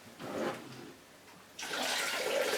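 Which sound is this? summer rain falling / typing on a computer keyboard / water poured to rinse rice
water poured to rinse rice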